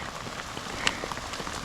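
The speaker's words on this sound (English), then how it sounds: "We're still getting hit by hail" Hail patters steadily during a mountain storm while hikers shelter below a large rock, a dense, fairly quiet spray of small ticking impacts with one sharper hit in the middle, no voices.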